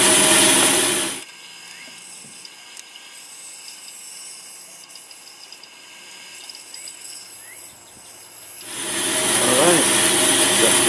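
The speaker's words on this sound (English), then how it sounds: "Did I mention I love my bandsaw?" Band saw fitted with a shop-built sawmill jig cuts through wood, a steady loud whine with a quieter stretch of cutting in the middle, close and without talk.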